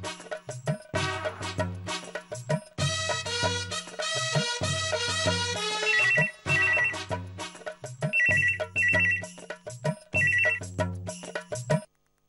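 Telephone ringtone during an outgoing call, a loud electronic melodic ring repeating in bursts with short pauses over about twelve seconds, alone without talk.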